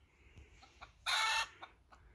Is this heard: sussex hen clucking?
yes